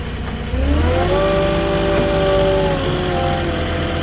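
A Moffett truck-mounted forklift's engine runs steadily and loudly up close, rising slightly in pitch after a moment, then holding a steady hum.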